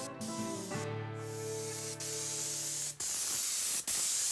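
A can of spray paint hisses in close, loud bursts, with a few brief breaks in the spray and a steady low tonal hum underneath.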